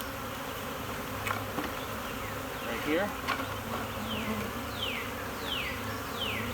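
Honey bees from a newly installed package buzz around a hive in a steady, close drone, with a few brief words spoken quietly over the insect hum.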